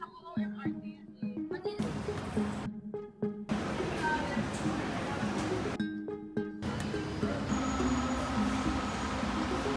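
An LRT2 light rail train rumbling along with steady rolling noise and rhythmic clicks of wheels over joints, some faint hum and mechanical clatter throughout.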